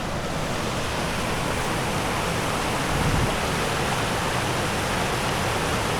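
Water flows across a dirt trail, a steady, dense rushing wash that stays even and fairly loud throughout with no voices.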